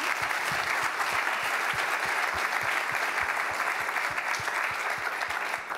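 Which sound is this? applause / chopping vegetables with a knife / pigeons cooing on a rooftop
applause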